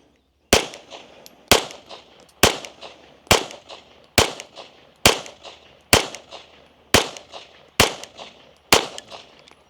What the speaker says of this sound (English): Let's shoot a group at that bottom right